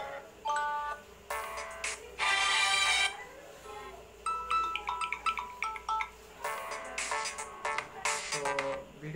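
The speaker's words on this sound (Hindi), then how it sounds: "मेरे को ये टोन अच्छा लग रहा है तो मैंने इस पर क्लिक कर दिया है" Ringtone previews on a Samsung Galaxy M01 phone play as bright electronic melodies, one tune after another in short bursts of chiming notes, some separated by brief pauses, heard clearly with no talking.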